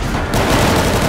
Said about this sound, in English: Stop shooting, Gunna